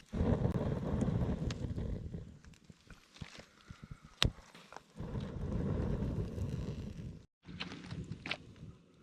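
Outdoor wind gusting past a microphone in a wet wilderness survival setting, a steady low rumble that swells and fades in waves, with a few faint knocks and crunches nearby and no speech.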